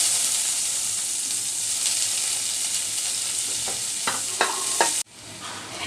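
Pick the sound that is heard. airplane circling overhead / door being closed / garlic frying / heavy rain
garlic frying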